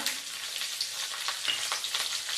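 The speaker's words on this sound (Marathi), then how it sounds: "मिरच्या घातल्या की त्या जरा छान खरपूस तळून घ्यायचे" Mustard seeds, cumin and chopped green chillies fry in hot oil on low heat, a soft crackling sizzle with small popping spatters, fairly quiet and without speech.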